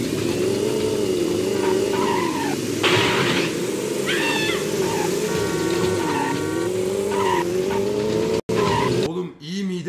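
A car in the Grand Theft Auto 1 video game drives with a droning, wavering engine note while tires repeatedly squeal and skid; loud, continuous game audio with a sharp cut near the end.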